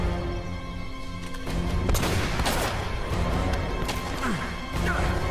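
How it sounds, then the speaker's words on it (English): Gunfire rings out in Uncharted: Drake's Fortune, loud cracks and crashing impacts scattered through a dense, noisy action scene. "Who's shooting at me?"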